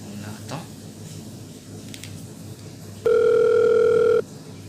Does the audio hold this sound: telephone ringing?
yes